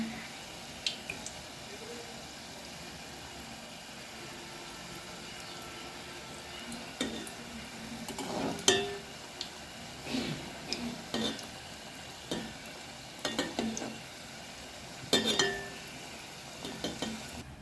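Soft steady sizzling of flour-and-sugar pitha frying in an old pot, punctuated by scattered clinks and scrapes of a utensil stirring against the metal.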